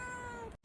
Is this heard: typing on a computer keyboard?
no